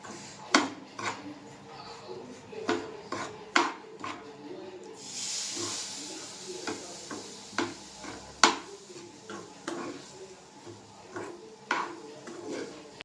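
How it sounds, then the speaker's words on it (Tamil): A spoon scrapes and clinks steadily in a pan while rava laddu mixture is stirred and milk is poured in. The taps come at a fairly regular rhythm, close up and moderately quiet, with a brief soft hiss midway. "கொஞ்சம் கொஞ்சமாக ஊற்றி கிளறுங்க"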